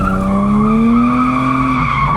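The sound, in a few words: Lexus drifting on speedway, tires spinning and skidding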